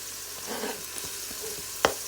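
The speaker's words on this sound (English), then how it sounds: "So in the pot I have some oil warming up. I'm gonna add my onions. So now my onion is frying up." Onions fry in oil in a pot, sizzling quietly with a soft crackling hiss, a few light stirring scrapes, and one sharp clink near the end.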